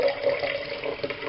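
Liquid is gently poured off settled yeast from one glass jar into another, a steady, close trickling splash for about a second, with no talking.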